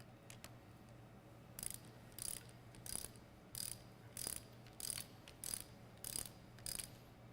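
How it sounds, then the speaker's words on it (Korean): A ratchet tightens bolts on a diesel engine part, producing quick bursts of sharp clicking repeated about nine times in a steady rhythm, faint but close, over a low background hum with no talking. "그 다음에 볼트 체결하시고"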